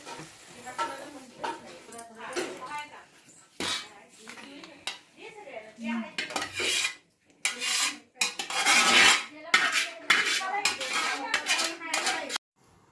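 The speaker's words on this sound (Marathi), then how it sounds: "आता हे चिकन शिजलेलं आहे आता हे आपण दुसऱ्या भांड्यामध्ये वतून काढायचं आहे" Steamed chicken for a Kolhapuri-style chicken pickle is scraped and transferred into another pot, with repeated metallic clinks and scrapes of utensils against the vessel, close and fairly loud, coming in irregular bursts.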